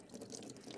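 Very dirty fluid drains out of a car, a faint, steady trickle and drip heard up close, constant over a brief moment with no speech.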